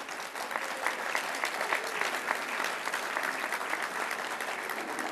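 Audience applauding at an event, a dense sustained clatter of many hands clapping together, loud and continuous throughout without a break.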